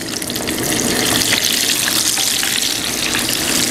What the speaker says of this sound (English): I'm just going to drop them right into that hot oil and fry them